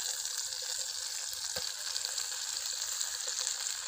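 Bread frying in hot ghee in a pan, a steady close sizzle and crackle throughout, with no talking.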